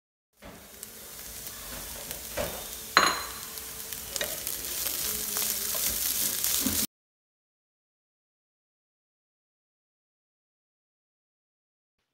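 Snake gourd and carrot thoran with grated coconut cooking in a pan, a continuous close sizzle broken by scraping stirs and a sharper clack near the middle, ending abruptly into silence.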